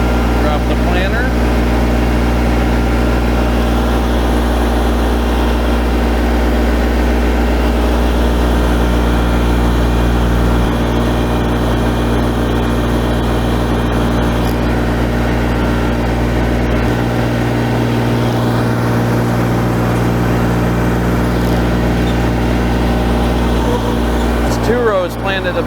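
A Kubota BX compact tractor engine drones steadily and loudly while pulling a John Deere 71 planter through a garden, a continuous low rumble with slight shifts in tone, with a voice speaking over it.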